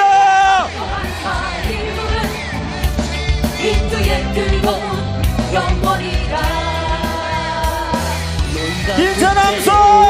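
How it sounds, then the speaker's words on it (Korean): Large crowd at a Korean rally roaring a loud, sustained cheer with yells and whoops, dense and continuous over music, close and loud throughout. "뜨거운 함성 부탁드립니다"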